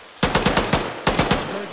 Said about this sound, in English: I hear what sounds like PK fire close to our right.